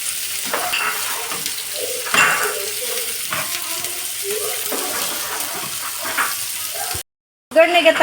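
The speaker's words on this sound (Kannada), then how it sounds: "ಮೂರು ಮೀಡಿಯಂ ಸೈಜು ಆನಿಯನ್ ಹಾಕೊಳ್ತಾ ಇದ್ದೇನೆ ಇದನ್ನು ಸಹ ಚೆನ್ನಾಗಿ ಫ್ರೈ ಮಾಡ್ಕೊಳ್ತೇನೆ" Three medium onions fry in a pan with a little salt, a busy crackling sizzle broken by stirring scrapes, with a brief silent gap near the end before the frying resumes.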